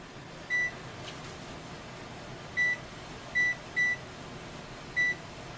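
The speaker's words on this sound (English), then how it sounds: "I'm going to set my timer for 3 hours" Kitchen timer on a stove being set for a pot roast, giving five short, clear electronic beeps at uneven intervals over a faint steady background hum, with no talking.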